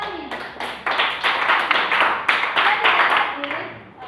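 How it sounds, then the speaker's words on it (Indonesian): Schoolchildren in an Indonesian classroom clap their hands together for a classmate, a lively burst of many hands beating in quick, roughly rhythmic pulses that lasts a few seconds, with voices mixed in. "Mari kita tepuk tangan kepada teman Darmin"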